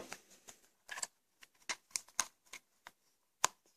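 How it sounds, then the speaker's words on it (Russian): Plastic surprise egg toy being pried open by hand, a series of sharp clicks and snaps with scraping plastic in an irregular rhythm, close and fairly quiet. "Открываем последнее яйцо"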